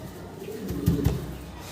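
A jhorna satin pigeon cooing at a fancy pigeon sale: two or three soft, low coos close by over a quiet background.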